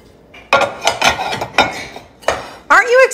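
Dishes clink and clatter as they are handled and stacked in a home kitchen, with several sharp ceramic knocks and a ringing clink near the end, close and loud, with no talking.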